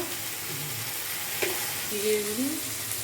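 A curry cooks down in oil in a pan, a steady broadband sizzle with a single knock and a faint stirring scrape, while a low voice murmurs briefly in the background.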